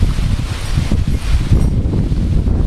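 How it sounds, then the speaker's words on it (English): Strong gusting wind during Hurricane Irene roars steadily into the microphone outdoors, a continuous loud buffeting rumble with rustling and no voices. "It's very, very windy."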